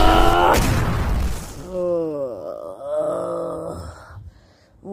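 A big, energetic explosion bursts out at the end of a laser fight between super-powered characters: one loud, close, broadband blast right at the start, then voices grunting and talking over a fading rumble.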